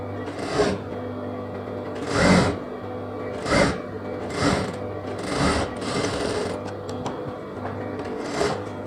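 A sewing machine stitches a folded quarter-inch seam on semi-patiala pants, running in short repeated bursts of whirring motor noise with brief pauses between them, close and clear with no talking.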